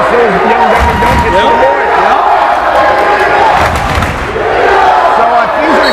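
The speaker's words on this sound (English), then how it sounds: "We have some chants going back and forth between the boys' teams. The crowd is starting to rock a little bit." A packed gym crowd at a high school girls' varsity basketball game between Proctor and West Rutland, chanting and roaring steadily throughout, loud and close, with thumps and shouts mixed in.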